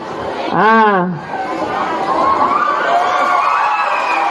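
An audience of children at a Maulidur Rasul religious talk shouts and chatters loudly, one voice rising in a sharp yell before the crowd settles into a steady, close babble.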